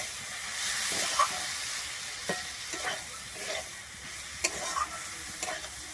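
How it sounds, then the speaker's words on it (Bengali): Washed red lentils are stirred into banana flower in a hot pan, giving a soft continuous sizzle punctuated by several sharp scraping strokes of the spatula, close and without talk. "আমি ডালটা দিয়ে আবারও খুব ভালোভাবে এখানে মিশিয়ে নেবো মোচার সঙ্গে"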